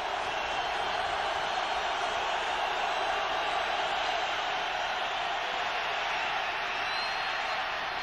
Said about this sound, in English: 3rd and 6, the crowd on its feet here in Buffalo.